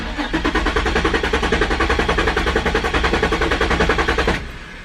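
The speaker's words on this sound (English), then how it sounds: "it sounds like it has a good enough battery and it wants to start" A Nissan 350Z engine cranks rapidly with a fast rhythmic chugging from the starter, loud and steady for several seconds, then cuts off without catching.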